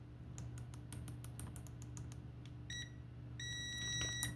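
A cheap UYIGAO UA8888 multimeter in continuity mode with its stock probes gives short, near beeps: a burst of quick chirps, then longer sustained tones that stutter and fail to latch, over a steady electrical hum.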